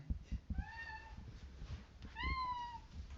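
A pet cat meows twice indoors, each call a drawn-out, rising then falling cry, the two separated by about a second amid soft background thumps.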